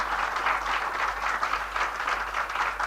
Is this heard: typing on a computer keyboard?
no